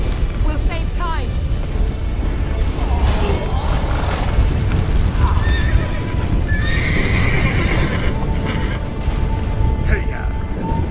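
In The Witcher video game, a horse neighs and whinnies amid clip-clopping hooves, with booming battle noise throughout and voices talking over it.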